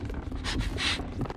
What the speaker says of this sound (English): I like the sounds of the long arm dude trying to sniff your ass out.